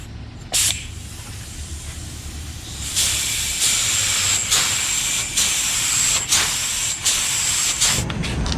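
Spray gun laying a coat of primer on a plastic car bumper, a loud steady pneumatic hiss in repeated passes, each burst starting and stopping sharply with brief gaps between strokes, close up and with no talking.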